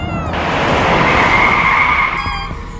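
A car skids hard to an emergency stop, its tyres screeching loudly and steadily for nearly three seconds before the sound eases off at the end.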